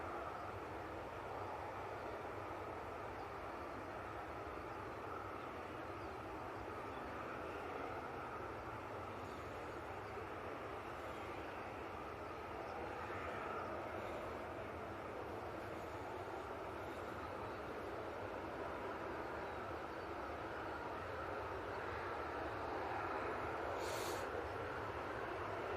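A Eurowings Airbus A319 arriving at Manchester Airport from Dusseldorf, a steady distant jet roar holding throughout with no voices.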